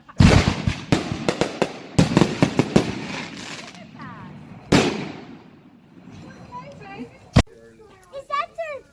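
A backyard New Year fireworks show sets off a rapid string of sharp, loud bangs and crackles, followed by scattered pops later on, while children shout and talk excitedly around it.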